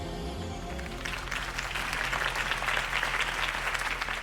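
Crowd applause breaks out after a campaign speech in the Batman Telltale video game, a dense burst of clapping that rises and holds steady after a short lead-in.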